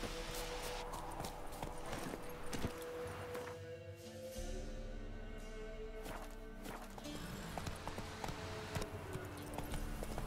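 Game horse hooves clip-clop in quick rhythm as a mount gallops in The Witcher 3: Wild Hunt, a steady string of soft thuds under a faint music and ambience bed.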